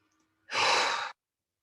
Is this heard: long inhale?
yes